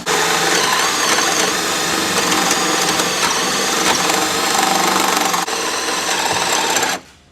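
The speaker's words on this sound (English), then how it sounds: "you actually have to drill into the frame all the way through to make sure that this sits in properly" A drill boring all the way through a 2011–2019 Duramax diesel truck frame while traction bars are being installed, giving a loud, continuous high-pitched grinding whine that stops abruptly near the end.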